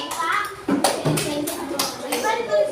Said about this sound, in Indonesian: Tepuk tangan dulu buat Afan.